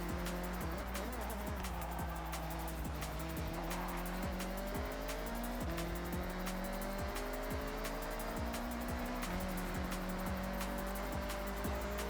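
Nitrous boost on a car built for touge racing in Forza Horizon 6: a loud, steady engine roar whose pitch climbs and resets through gear changes, threaded with regular sharp ticks and hissing tire squeal, with no voices over it.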